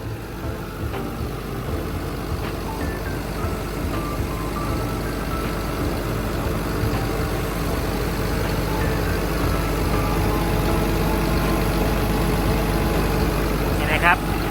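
The diesel engine of a Caterpillar 320D excavator idles steadily up close, a constant low rumble with a faint whine on top, and someone talks over it throughout.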